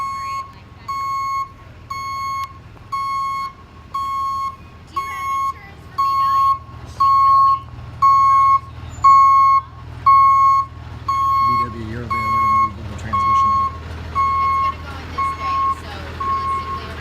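A tow truck backs up with a steady series of sharp, evenly spaced reversing beeps at a garage, fairly close and loud, with engine rumble and some talking underneath.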